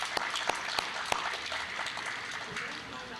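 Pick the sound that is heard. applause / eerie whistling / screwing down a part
applause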